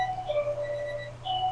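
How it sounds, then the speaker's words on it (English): An electronic alarm beeps in a kitchen with a steady, tonal, ringing pulse that sounds moderately close, repeats in short phrases and holds throughout with no talking. "You can kill that alarm."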